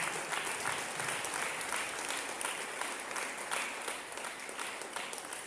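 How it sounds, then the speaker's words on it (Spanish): A church congregation at a Sunday service applauding, a dense, sustained wash of many hands clapping together at moderate distance, steady for several seconds with no words over it. "eso se merece un aplauso para él"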